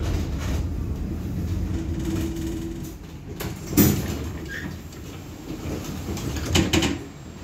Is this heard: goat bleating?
no